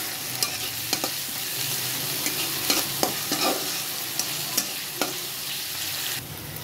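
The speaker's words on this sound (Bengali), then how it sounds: "নেড়ে নিচ্ছি।" Onions frying with salt and chili in a pan for a snakehead fish dopiaza are stirred, and a spoon scrapes and clicks in an irregular rhythm over a steady, close sizzle.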